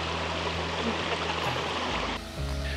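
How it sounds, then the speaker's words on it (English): A small stream near Lake Bled rushes in a steady, close, continuous wash of flowing water, with no voices over it. "We just walked up that little river right there, that little stream, and it dead ends."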